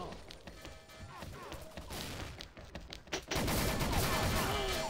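Rapid gunfire rattles through a firefight in the shooter game XSHOT, sharp overlapping shots and impacts in quick bursts, growing into a louder, denser barrage in the second half.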